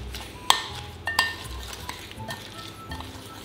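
A spoon mixes chili flakes into a Thai jaew dipping sauce, with a few sharp clinks against the bowl followed by softer stirring scrapes, close and quiet.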